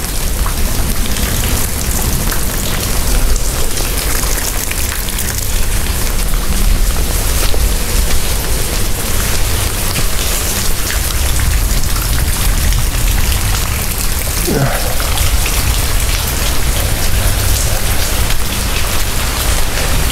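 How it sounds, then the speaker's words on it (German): Heavy rain pours down steadily, a dense close hiss of drops hitting surfaces throughout, loud and unbroken, with a faint low rumble and no talk. "Wir müssen noch ein bisschen den Regen abwarten."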